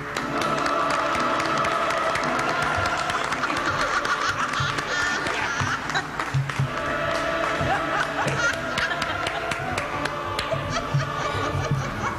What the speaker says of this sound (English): Please contain your applause.